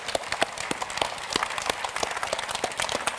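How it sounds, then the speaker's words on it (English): Steady applause from a crowd, many hands clapping densely and continuously, fairly close, with no voices on top. "Please, big round of applause."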